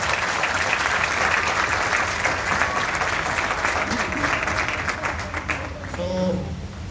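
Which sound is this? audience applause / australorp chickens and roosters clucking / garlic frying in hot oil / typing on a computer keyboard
audience applause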